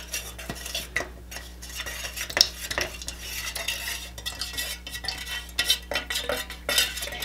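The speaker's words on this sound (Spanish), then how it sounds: "difícil revolver tan poquita cera" Small quantity of melted candle wax stirred in a container for homemade candles, giving continuous light scraping and clinking of a utensil against the vessel's sides and bottom, close and steady, with no voices.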